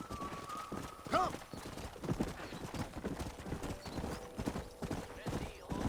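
Horse hooves clip-clop at a steady walking pace in the Red Dead Redemption video game, faint and close, under ambient outdoor noise, with a brief whinny-like tone near the start.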